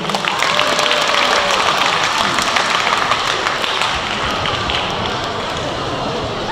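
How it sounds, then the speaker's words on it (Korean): Audience applause at a Korean quiz contest event, a full wash of many hands clapping that stays strong, then thins slightly toward the end, with faint voices mixed in. "다시 큰 박수 부탁드릴게요."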